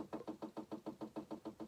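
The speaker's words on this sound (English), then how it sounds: "you hear that knocking? That's actually a train passing by about half a mile away." Distant train passing about half a mile away, heard as a steady, evenly spaced knocking of roughly five beats per second, soft and uniform with no talk over it.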